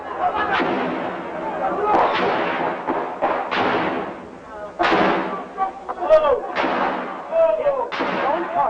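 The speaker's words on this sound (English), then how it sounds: "suddenly there were bursts of gunfire everywhere." Repeated sharp bursts of gunfire crack out at irregular intervals, echoing and fairly loud, with voices talking among the shots.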